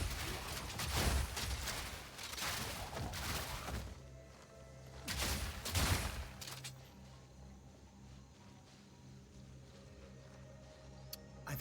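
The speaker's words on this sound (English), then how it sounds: "Ready the artillery!" Crossbow artillery volleys in Path of Exile 2 erupt as two loud bursts of crashing, booming impacts, each lasting about a second, followed by lower rumbling game ambience.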